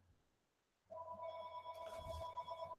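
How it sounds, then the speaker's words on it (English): A phone rings with a steady electronic ringtone that starts after a quiet moment and carries on loud and close, alone without talk. "My phone is ringing."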